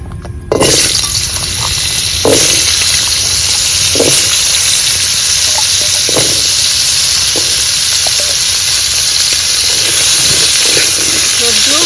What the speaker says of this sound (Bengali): এবার পেঁপে আলুটা ভেজে নেব